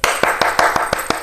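About seven sharp hand claps in an even, brisk rhythm, close and clear, with no voices over them.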